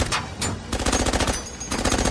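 Rapid automatic gunfire in a Persian-dubbed animated cartoon: repeated machine-gun bursts crackle in quick succession, separated by brief gaps, fairly loud and close throughout.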